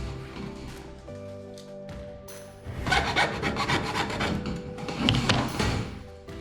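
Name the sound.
cutting tubes to 6 cm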